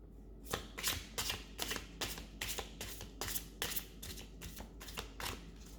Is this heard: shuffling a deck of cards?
yes